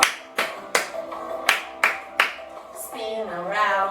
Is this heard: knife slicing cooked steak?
no